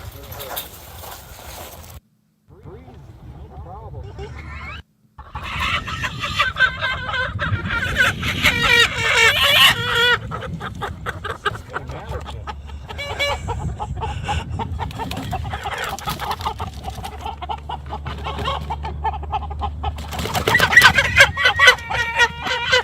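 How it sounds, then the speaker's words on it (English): Chickens cluck and a rooster crows in a cage at a roadside stop, a busy, noisy mix with people talking over and around the birds. "Chickens."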